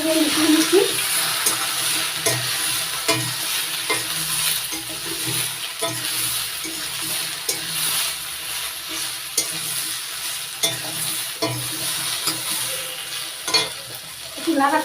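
Jujube fruit stirred in hot spiced oil for pickle, a loud dense sizzle and bubbling with a spoon repeatedly scraping and tapping the pan throughout, close and continuous.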